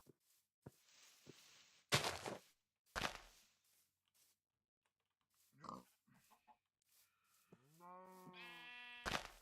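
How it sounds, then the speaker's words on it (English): Sheep bleating in the Minecraft video game: sparse clicks and thumps give way to a loud, wavering bleat near the end, followed by a sharp hit, with silent gaps between sounds. "I know I just hit a sheep."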